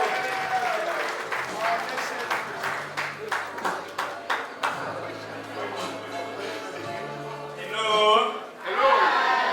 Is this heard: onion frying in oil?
no